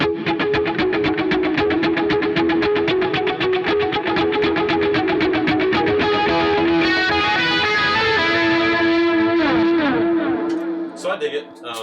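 Electric guitar run through a Kemper and pedalboard with the vibrato switched off, playing a steady, heavily effected line with distortion and echo that drops away into a brief quieter tail.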